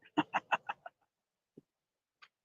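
Geese squawking as they fly low over water, a quick run of five loud honking calls followed by a couple of faint, isolated squawks after a pause.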